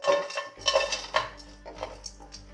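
Jackfruit halwa ingredients go into a pan on a lit gas stove with several close metallic clanks and scrapes of utensils against cookware, loud at first and easing off, with no voices.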